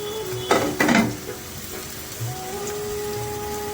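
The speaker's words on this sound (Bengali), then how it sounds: "তার মধ্যে আমি এই সবজিগুলো ভেজে নেব।" Vegetables frying in a pan for moong dal, a soft steady sizzle with two loud clattering bursts of stirring near the start, then a quieter hiss.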